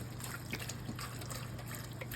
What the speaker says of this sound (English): the favorite ingredient of all is my wine beef broth. Pour it all in.